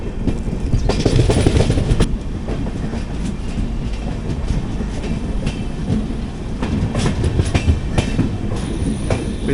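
The 22616 Intercity Express with new LHB coaches runs on tracks past Coimbatore North, a loud, steady rolling rumble with rhythmic wheel clatter over rail joints and occasional higher squeals, heard from inside the train.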